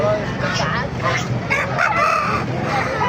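An eight-month-old rooster among many chickens on a farm in Baliwag crows in long drawn calls, with other fowl and clucking around and people talking in the background.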